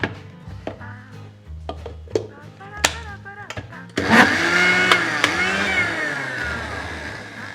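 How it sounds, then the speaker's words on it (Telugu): Blender whirring through cream for homemade ghee, starting in short choppy pulses and then running steadily and loud as the thick mixture churns, with a brief whine of the motor. "కానీ ఇంకా బ్లెండ్ చేయాలి"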